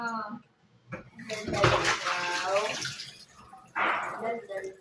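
Tap water runs in a steady rushing stream while dishes are washed at a sink, continuous and close, with voices talking over it throughout.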